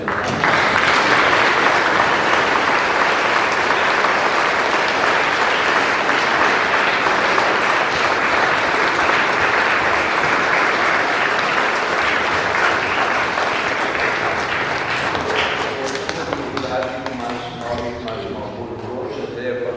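Loud, sustained applause from a church congregation at a Sunday Mass celebrating a Caritas group's 30th anniversary, dense and steady for most of the clip before thinning out as a voice begins speaking near the end.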